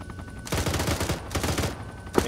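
Arma 3 gunfire rattles in a dense, continuous burst of rapid shots, a second flurry following a brief lull, all close and loud with no talking.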